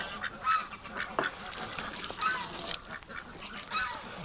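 Ducks call in a wintry outdoor setting, with several nasal, honking quacks scattered over a few seconds against a soft, breezy background.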